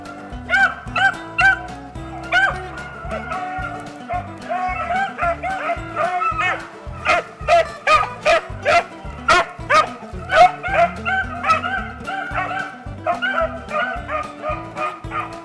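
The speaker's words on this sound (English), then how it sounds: "here comes the dogs now, maybe 30 seconds to a minute behind them, and they'll work their way and find them" Hunting dogs on a rabbit chase bay and yip in a steady, overlapping chorus of rhythmic barks, fairly close and loud, continuing without pause through the whole stretch.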